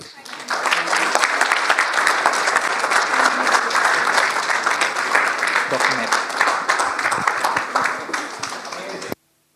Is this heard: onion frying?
no